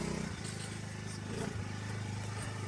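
A small motorcycle engine idling and revving nearby on a muddy garden path, a buzzy low putter with pitch shifts, faint voices in the background.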